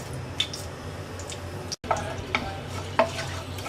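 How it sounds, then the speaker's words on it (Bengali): Dried red chillies and panch phoron spices crackle and sizzle in hot mustard oil in a pan, a steady fry hiss broken by small pops and ticks, with a brief gap midway. "তেলটা গরম হয়ে গেছে, 2টা শুকনো মরিচ দিয়ে দিচ্ছি 1 চা চামচ 5 ফোড়ন।"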